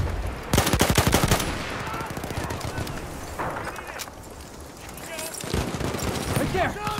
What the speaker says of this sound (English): It's an enemy machine gun!